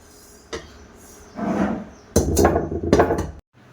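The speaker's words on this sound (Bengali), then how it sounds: "এবার আমি শিলে ফেলে গুঁড়ো করে নেব" Spices are ground on a grinding stone in heavy, rough scraping strokes: a few separate bursts of stone rubbing on stone, close and fairly loud.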